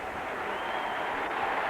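Ballpark crowd applauding for J.T. Snow at Candlestick Park during a Dodgers at Giants game, a continuous, broad roar of clapping and cheering heard at a distance, steady for under two seconds.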